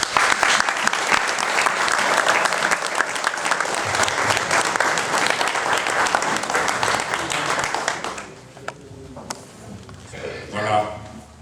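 An audience applauds artist and lobbyist Mito Hinini at a French-language gathering, with dense sustained clapping for about eight seconds before it thins into scattered claps and murmuring.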